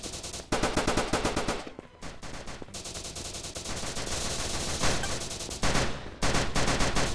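Nonstop automatic gunfire in the pixel shooting video game Battle Gun 3D: loud, dense bursts of rapid shots with only brief gaps, filling the whole stretch.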